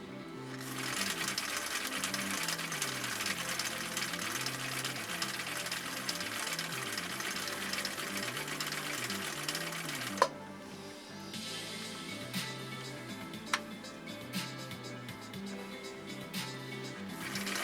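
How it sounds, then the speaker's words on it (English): A 1959 Husqvarna Viking CI-21A sewing machine sews a cam decorative stitch through two layers of commercial upholstery fabric, its needle thumping in a steady continuous rhythm up close, with a couple of sharp clicks near the end. "going through 2 layers of this commercial upholstery material all the way around with this decorative stitch number 2 on cam C"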